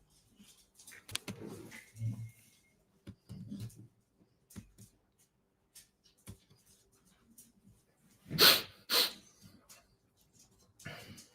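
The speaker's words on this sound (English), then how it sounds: "My dog is snoring." A dog snores nearby in a quiet room, soft breathy snorts and grunts recurring irregularly, with a couple of louder sharp snorts toward the end.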